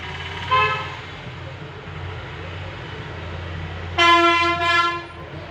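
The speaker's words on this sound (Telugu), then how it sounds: "మాకు రోడ్డు పక్కనమ్మ బస్సులు గోల గోల కింద ఉంటుంది ఈ గోలంతా వీడియోలో పడుతుంది" Bus horns honk twice from a nearby roadside, a short blast followed later by a longer one, over a steady low traffic rumble heard indoors from a home kitchen.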